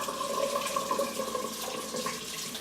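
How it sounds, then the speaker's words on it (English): A kitchen tap runs steadily while hands are rinsed under it, giving a soft continuous hiss and splash of water at low volume with no speech. "Now I'm gonna rinse off my hands and grab my cup."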